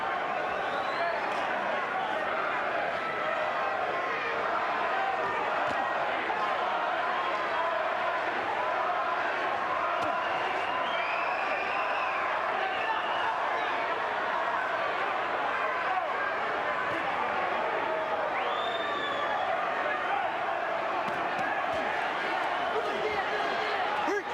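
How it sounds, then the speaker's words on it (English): Boxing crowd at the Evander Holyfield vs John Ruiz rematch, chanting Ruiz: a steady, distant arena roar of massed voices that stays even throughout, with a commentator's voice over it. "Much of the crowd chanting Ruiz, Ruiz, Ruiz."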